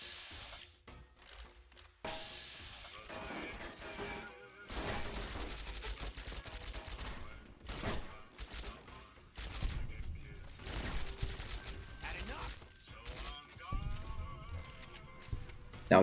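Silenced SMG in Fallout: New Vegas firing in repeated bursts of muffled rapid shots during a casino fight, with other gunfire and game effects mixed in and a narrating voice at times.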